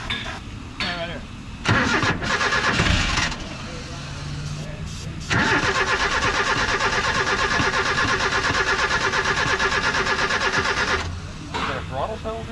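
An old Chevy Love pickup engine is cranked with ether sprayed in, sputtering in short bursts before catching and running at a steady, loud idle up close, with people talking around it.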